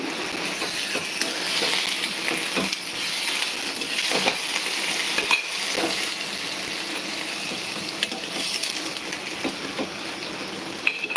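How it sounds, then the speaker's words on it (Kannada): Food frying in oil in a pan gives a constant crackling sizzle, loud and close, with scattered sharp pops and clicks over the steady hiss and no talk. "ಸ್ವಲ್ಪ ಎಣ್ಣೆ ಹಾಕ್ಕೊಳ್ಳಿ ಫ್ರೈ ಮಾಡಿ"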